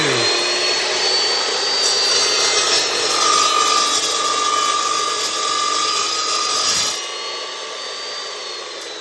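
An Evolution 14-inch chop saw whines steadily through a metal cut for several seconds, a loud high-pitched grinding that drops off near the end, with no voices.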